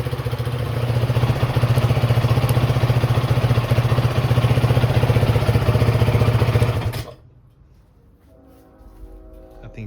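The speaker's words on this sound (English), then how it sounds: "And it's idling really, really good" A 2005 Honda TRX450R ATV engine idles in a steady, rapid low thumping pulse, loud and close, then cuts off abruptly, leaving faint clinking and background noise.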